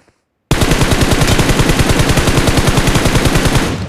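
Sustained automatic gunfire in PUBG knocking down an enemy, a loud rapid burst of evenly spaced shots that starts abruptly after a half-second of silence and runs unbroken for over three seconds.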